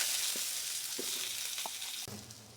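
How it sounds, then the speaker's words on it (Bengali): Potato pieces frying in hot oil in a Bengali home kitchen, a steady close sizzle with a few soft clinks and stirring sounds, no talking. "আলুগুলোকে ভেজে নেব।"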